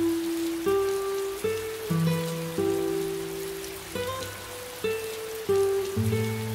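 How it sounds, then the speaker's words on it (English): Minecraft rain hisses softly and steadily under louder game background music that moves through sustained stepped notes. "Oh, Mikey, it's starting to rain."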